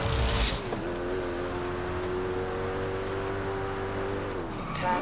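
A Koenigsegg CCX driving in Forza Horizon 5 gives a loud, steady engine drone that holds a sustained pitch, with a brief dip and a shift near the end and a hissy burst at the start.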